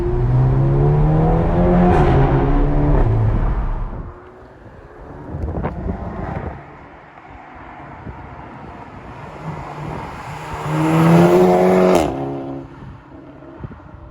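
A Volkswagen GTI Edition 30 with a TFSI engine, DSG gearbox and APR aftermarket exhaust revs hard and accelerates with a loud, throaty exhaust roar, drops back to a low idle, then surges again.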